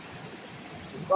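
A river flows over rock outcrops in a dense forest, giving a steady, soft wash of water that holds even throughout, with a brief sharp tone near the end.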